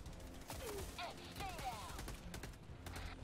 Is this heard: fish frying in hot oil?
no